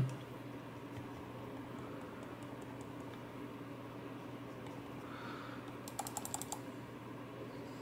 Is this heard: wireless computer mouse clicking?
yes